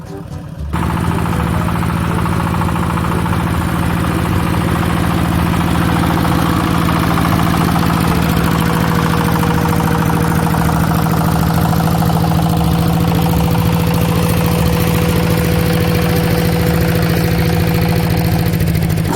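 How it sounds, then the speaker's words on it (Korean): A neglected walk-behind power tiller, revived with an electric charger, drives over farm furrows in second gear at low RPM, its engine a loud, steady, throbbing drone held close throughout while someone talks over it. "지금 기어는 2단으로 넣어놓고 엔진 RPM을 좀 적게 돌리면서 그렇게 이동합니다"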